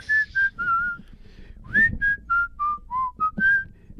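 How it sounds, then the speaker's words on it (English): One person whistles a short melody alone, about a dozen clear, close notes in quick succession with a brief pause partway through. "Just whistle with it."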